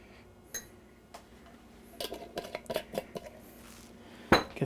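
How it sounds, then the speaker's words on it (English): A spoon stirring honey into yogurt, giving a quiet series of light clinks and taps against the container that grow busier before one louder knock. "Get that stirred up."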